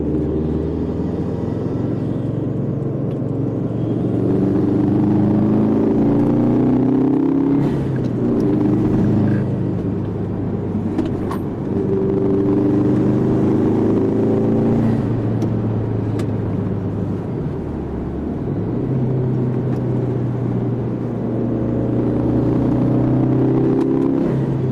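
Turbocharged car engine running, a loud, steady low rumble with rising and falling tones as revs build and ease off several times, close and continuous throughout.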